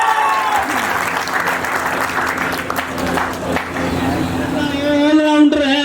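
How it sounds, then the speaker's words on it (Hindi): Loud, sustained applause from a crowd at a birthday celebration and award event, honouring a teacher, with a dense wash of clapping and cheering running throughout and a few voices calling out near the end. "जोरदार तालियां संदीप सर के लिए।"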